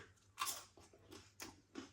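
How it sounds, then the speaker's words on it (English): A faint crunchy bite into a toasted southern fried chicken baguette followed by a few quiet chewing crunches, close up and soft. "Can you hear the crunch?"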